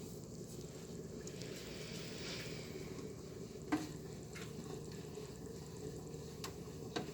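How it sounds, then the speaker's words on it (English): Steady low sizzling as almonds fry in a sauté pan, a continuous crackling hiss with a few soft clicks and stirring knocks, no talking. "Getting a little sizzle in our saute pan here as we're working on our almonds"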